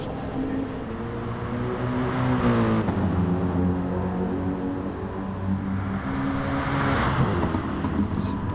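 Race cars circle the track in Gran Turismo during an online touring series race, engines droning and revving loudly and steadily, with pitch sweeps as cars pass by close, continuous throughout without speech.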